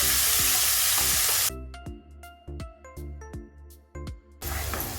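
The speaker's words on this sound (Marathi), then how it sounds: "कांदा तर चांगला परतून घ्यायचा आहे" Bright sizzling of onion paste in hot oil, interrupted for a few seconds by plucked musical tones before the frying hiss returns.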